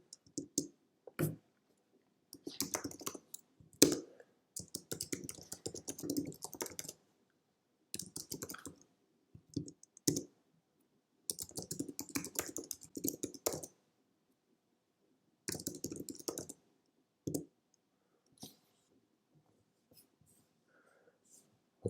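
Code being typed on a computer keyboard in rapid clattering bursts of keystrokes, separated by short pauses, close and clear with no talking.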